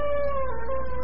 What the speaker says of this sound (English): Yes, it's our dog. Oh, well, my goodness, does he always howl like that?